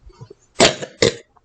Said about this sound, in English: that cough was loud.